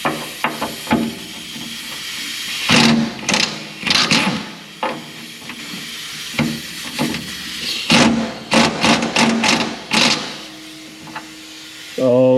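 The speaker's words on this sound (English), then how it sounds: "Taking out a 1/4 inch bolt with a 1/2 inch impact." A 1/2 inch impact wrench backing out a 1/4 inch bolt on a Cat D4G dozer in a shop: repeated short, loud bursts of rattling hammering with pauses between, over steady background noise.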